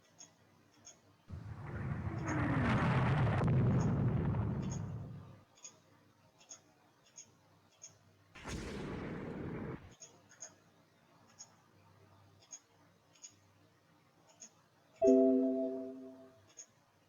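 A ship blowing up under artillery fire in the naval strategy game Rule the Waves 2: a long rumbling blast, a second shorter burst, then a tonal chime, over steady faint ticking clicks.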